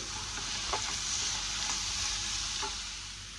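Potato fry sizzling steadily in a pan on the stove, a continuous close frying hiss with a few soft stirring scrapes.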